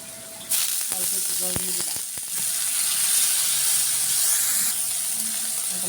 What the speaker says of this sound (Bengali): মশলাটা একটু কষিয়ে মশলাটি কষানো হয়েছে এখন